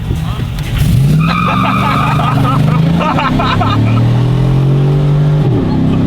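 A car launches hard from a green light in a street race, its engine climbing loudly through the revs with tire noise as it pulls away, heard from inside with people talking over it.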